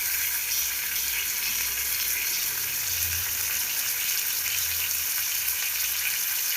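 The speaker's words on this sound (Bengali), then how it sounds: "অন্য একটি পাত্রে আমি আর একটু তেল নিয়েছি, নিয়ে আমি ফুলকপিগুলো লাল লাল করে ভেজে নেব" Cauliflower florets frying in oil in a pan, a steady close hiss of sizzling that holds evenly throughout with no voices.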